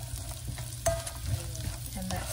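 Bacon and potatoes fry in a pan for loaded fried potatoes, a dense, close sizzle with a few scraping knocks of a utensil stirring through them, no voices.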